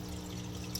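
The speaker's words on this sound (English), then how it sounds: "the air eventually comes out the holes at the top, and the water does too" A homemade drilled lava-rock aquarium air filter gives a faint, continuous bubbling and trickle of water under a low pump hum, steady throughout the short moment.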